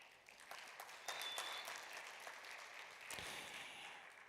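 An audience at a tech startup event gives a round of applause, a dense, steady clapping that holds for several seconds, heard from a distance and fairly faint.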